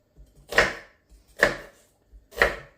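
Three evenly spaced, crisp knife chops through an onion on a cutting board, each a sharp close thud followed by a short pause, with no talk over them.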